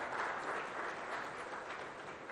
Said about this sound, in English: So let's give him a round of applause for that as well.